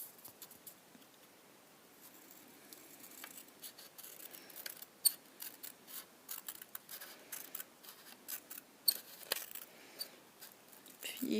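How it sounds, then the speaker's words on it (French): Old scissors snip paper for scrapbook page corners, giving faint, close, irregular clicks and cuts against a quiet room. "J'ai le ciseau qui couine"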